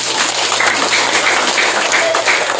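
A congregation at a church praise service claps together in a dense, steady wash of applause, with a faint voice briefly audible underneath.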